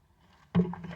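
A bite into a fried chicken sandwich of chicken breast, cider slaw and pickles, giving one sudden close crunch halfway through, then brief chewing after a quiet lead-in.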